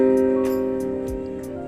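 A sustained minor chord rings out, its tones held steady and slowly fading over under two seconds with no voice over it.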